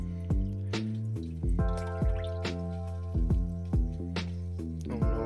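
Water drips and trickles into an aquarium tank as cherry shrimp are released, making a series of resonant, pitched plinks roughly once a second. They are close and fairly quiet, with no talking.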